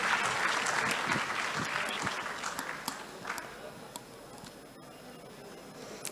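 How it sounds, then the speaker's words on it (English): Applause at a tech fair greets an investment lead stepping up to present, starting as full crowd clapping and tapering over several seconds into a few scattered, isolated claps. "A round of applause for Alisha Golden."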